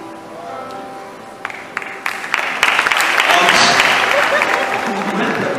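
Applause breaks out in a church during a pastoral ordination service, starting sparse under a speaking voice and swelling into fuller, sustained clapping from the congregation.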